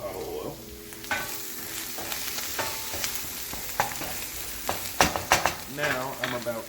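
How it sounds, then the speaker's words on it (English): Mushrooms and spinach frying in avocado oil for a veggie quiche, with a steady close sizzle broken by repeated scraping and stirring clatters that grow busier toward the end. "I already have my mushrooms and spinach going in my avocado oil"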